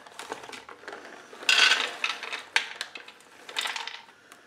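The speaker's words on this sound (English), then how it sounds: "let's open our nut raisin mix next" Crinkling and tearing of an MRE nut raisin mix pouch from a Meal Cold Weather ration, followed by the light rattle and patter of nuts and raisins pouring out in a few uneven bursts, close and fairly quiet.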